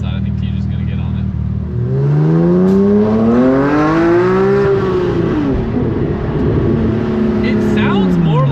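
A gated Lamborghini Murcielago, heard from outside, revs loudly, its engine note climbing and falling in a long sweep before rising again, close and dominant with a voice briefly audible.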